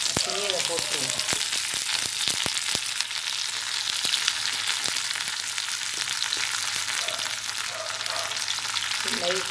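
Thuthuvalai leaves frying in hot ghee give off a steady, close sizzle with scattered sharp crackles and pops.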